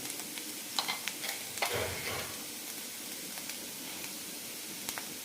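Carrots fry with a soft, steady sizzle while spice powder is stirred in. A spoon gives occasional scraping taps against the pan, close but fairly quiet, with no speech.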